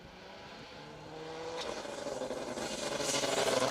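A Subaru Impreza rally car on a rally stage, engine noise rising from faint and distant to louder as it nears, mixed with outdoor wind and rumble.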